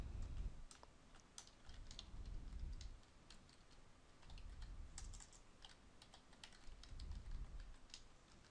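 Keys clack on a computer keyboard while an email is typed into a hotel reservation system, a quiet run of irregular close taps over a low background hum, with no talking.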